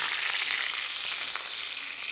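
Blue grenadier fillet fries skin-side down in a hot pan with a steady, close sizzle and faint crackles, and there is no talking.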